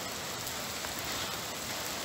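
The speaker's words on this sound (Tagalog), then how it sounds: "Kaya ito, basang-basa tayo ng ulan." Steady rain falling outdoors near a train station, a dense even hiss of drops with no pauses and no voices.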